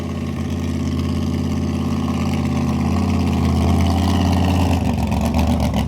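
Supercharged big block Chevy engine in a mud truck running hard and loud at high revs, a steady deep roar held near the limiter with a slight rise in pitch toward the end, no voices.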